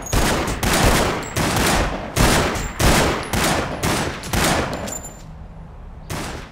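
Rapid bursts of gunfire from a handgun in The Sopranos video game, about eight loud, evenly spaced shots with short gaps, ending in a pause before one final shot.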